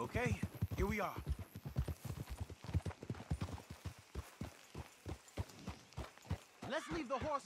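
Steady clip-clopping of horse hooves trotting along in the video game Red Dead Redemption 2, rhythmic and fairly close, with someone talking over the hoofbeats.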